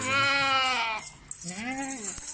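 A goat on a farm bleats loudly and close by, two long wavering calls in quick succession with a short gap between them.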